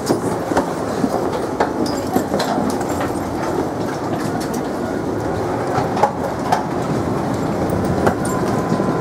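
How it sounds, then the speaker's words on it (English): An airport terminal shuttle train in San Jose rumbles along steadily with rhythmic clickety-clack of wheels and faint squeaks, a continuous close interior ride with no talk. "The train is leaving. Please hold on."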